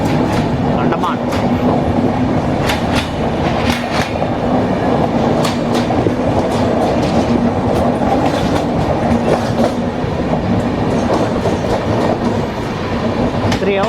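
Secunderabad to Danapur passenger train 12791 runs steadily, heard up close from on board. It rumbles continuously with rhythmic clickety-clack from the wheels on the rails.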